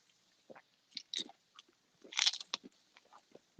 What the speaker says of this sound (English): I can't stop eating this pizza.